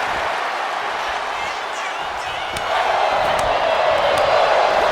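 A wrestling arena crowd cheering during a women's match, a steady wash of distant crowd noise that rises slightly in the second half, with commentary talk over it.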